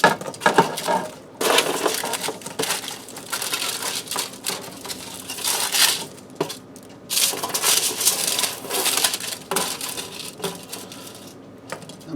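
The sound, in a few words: crispy baked tater tots being placed into a baking pan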